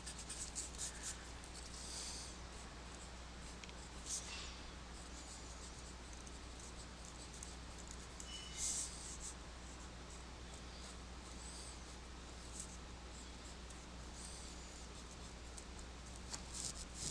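Marker or chalk scratching across a board during a chemistry lecture, a soft continuous rubbing with faint taps, steady and quiet throughout with no talking.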